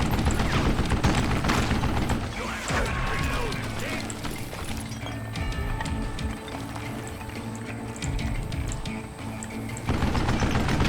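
Rapid bursts of gunfire, including a mounted machine gun, in the Wild West shooter Call of Juarez: Gunslinger, loud and repeated amid game effects with a player's voice talking over it.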